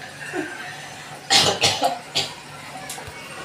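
A woman with a cold coughs at home in a short cluster of several harsh, close coughs, separated by quiet room noise.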